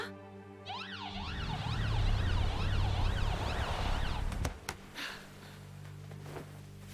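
Ambulance siren wailing up and down in a steady, loud, close cycle over a low engine rumble, then cutting off, followed by a few sharp clicks.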